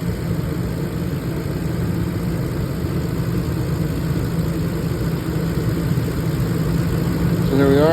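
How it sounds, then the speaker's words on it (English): The engine of a 2004 Ford Expedition, with a mass airflow sensor fault code, idles steadily at around 840 RPM. It gives a constant, even rumble and hum close by, with no voices. "Engine is currently running."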